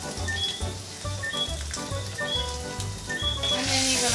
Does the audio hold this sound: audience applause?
no